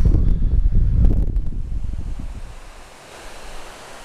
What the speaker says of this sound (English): spectacular waterfalls, even if not overly tall. And a bit of a feature going on there with the spray